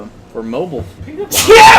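A person sneezes sharply near the end of a short stretch of conversational talk during a podcast recording, the burst loud and close.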